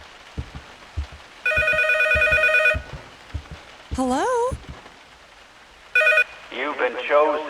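A telephone rings in loud electronic bursts, two separate rings with a warbling tone between them, inside a game scene with footsteps and clatter, and a voice answers at the end.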